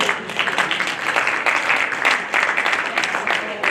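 Audience at a quiz night applauds at the end of the first half, with steady, dense clapping that holds at an even level throughout.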